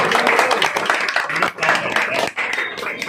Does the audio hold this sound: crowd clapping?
yes